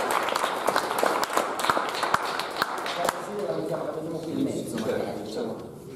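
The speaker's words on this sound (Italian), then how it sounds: "chiederei a Giorgia di unirsi a noi, perché insomma merita un applauso" Applause from a theatre audience at closing remarks, a busy patter of many hands with a few sharper nearby claps, fading after a few seconds as people talk over it.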